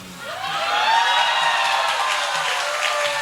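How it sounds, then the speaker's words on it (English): An audience at a beauty pageant applauds continuously, a dense wash of clapping that swells and holds steady throughout, with no speech over it. "I don't know if they clap for you or clap for me,"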